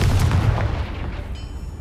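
A Bombarda blasting spell explodes in the Hogwarts Legacy video game, a heavy booming rumble that is loudest at the start and then fades into a lingering low roar, with no talking.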